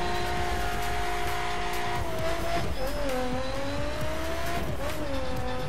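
Supercharged 3.5-liter V6 engine of a Lotus Exige S in The Crew Wild Run, droning steadily and loudly with pitch shifts as it revs and shifts, with tire squeal and road noise throughout.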